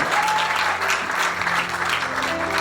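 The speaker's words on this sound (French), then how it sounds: "Et que l'Église applaudisse." Church congregation applauding during a Sunday worship service, a dense, even wash of clapping at moderate loudness that holds steady from start to finish.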